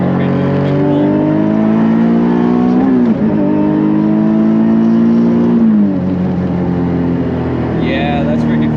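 A modified twin-turbo Nissan 370Z NISMO running about 700 wheel horsepower at 14 PSI boost accelerates hard, its loud engine tone climbing through the gears with shift dips, as voices talk from inside the car.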